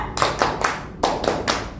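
Three sharp hand claps in a steady rhythm, a pause, then three more, made by a group of adults in a clapping game at a teachers' training session.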